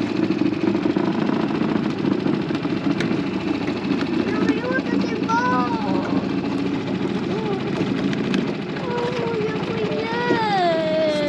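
A motorboat engine drones steadily underneath while people talk over it in Swedish, the engine hum continuous and fairly close throughout.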